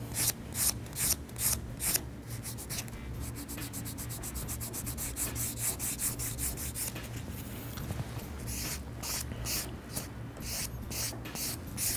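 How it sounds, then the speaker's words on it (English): Buffing block rubbed back and forth across a fingernail to smooth a pink-and-white nail set, a steady close scratchy rubbing in quick strokes with brief pauses, alone throughout. "go back in with your buffing block. And it'll smooth it right back out for you"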